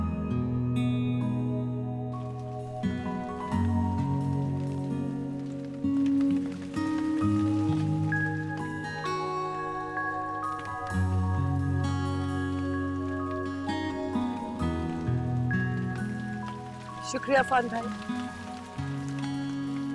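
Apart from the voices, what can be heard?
heavy rain falling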